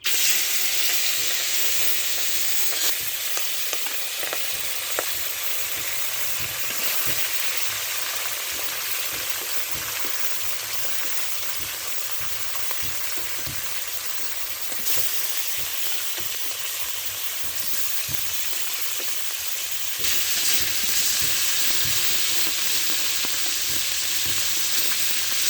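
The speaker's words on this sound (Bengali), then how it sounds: "এবার আমি মাছগুলো ভেজে নেব।" Live magur catfish sizzle steadily in hot oil on a stovetop, a dense, continuous frying hiss with occasional crackles and pops throughout.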